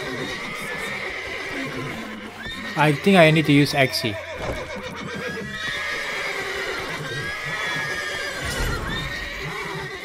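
A horse in the Witcher 3: Wild Hunt video game whinnies loudly over running hooves, with a sharp neigh burst in the middle, while someone talks over the game audio.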